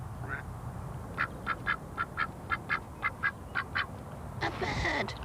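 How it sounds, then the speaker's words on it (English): A duck quacks in a quick series of about ten evenly spaced calls, moderately near, over a low rumbling background, followed by a louder burst of mixed noise near the end. "I think you're quite clever to quack like that."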